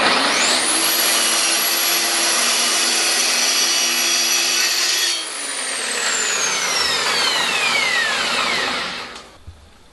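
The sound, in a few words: track saw cutting scrap MDF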